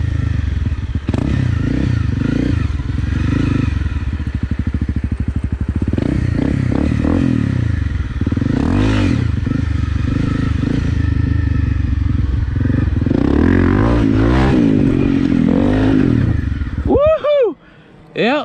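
Honda CRF 250 Rally motorcycle ridden and revved, a close, loud engine note that surges and drops with throttle changes and clattering bumps, ending with sharp revving blips.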